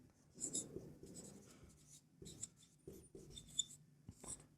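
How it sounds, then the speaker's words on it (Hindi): Chalk or marker scratches out a maths formula on a board during a Class 10 statistics lesson, a string of faint, close strokes and taps with short pauses and no talking. "अब बहुलक का सूत्र लिखते हैं।"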